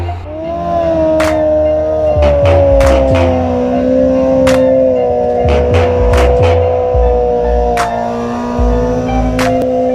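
A Honda CBR1000RR sport motorcycle with a quick shifter revs hard and shifts from second to third gear, with a loud, steady engine note and sharp rising tones and brief clicks through the pass.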